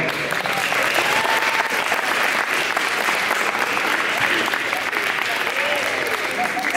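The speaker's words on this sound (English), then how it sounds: "One quick round of applause for all our volunteers." A quick round of applause for volunteers, thick continuous clapping from a large crowd, loud and steady, with some voices mixed in.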